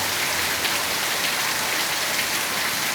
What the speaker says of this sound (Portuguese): Chuva boa.